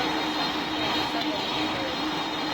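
Boeing 767 jet engines taxiing at an airport in a Roblox flight simulator, a steady, loud broadband roar with a constant whine that fills the whole clip without letup.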